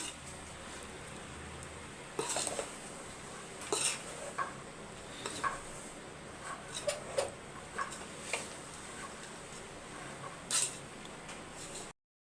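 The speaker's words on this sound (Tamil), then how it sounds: "இப்போ வந்து நல்லா மிக்ஸ் பண்ணி விட்டுக்கோங்க" A spoon scrapes and clinks against a pot while rice and peanut koozh porridge is stirred on the stove, giving irregular taps and scrapes over a quiet background.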